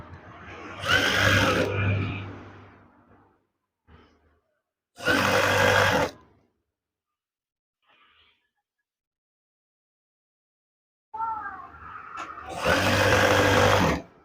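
A sewing machine stitches curtain fabric in three close, loud bursts of rapid whirring, with short quiet pauses between runs.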